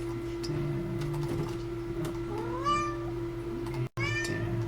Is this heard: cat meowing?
yes